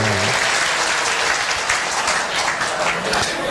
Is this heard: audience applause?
yes